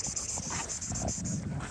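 Cane Corso dogs play and tug together, giving scuffling, panting and muffled growl-like noises with a steady high whine in the background.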